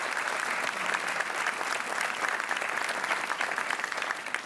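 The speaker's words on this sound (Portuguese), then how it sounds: "Um aplauso para o Denis Conceição, o nosso Obrigado" Studio audience applause on the Portuguese RTP 1 game show Joker, a strong, steady wave of clapping lasting throughout, loud and close, with no talk over it.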